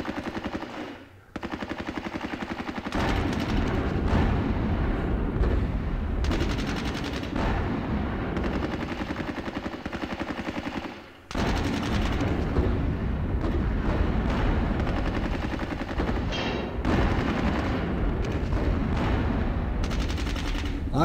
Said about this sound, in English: Lots of opportunity fire here.